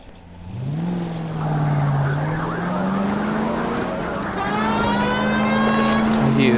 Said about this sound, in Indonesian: Itu sirine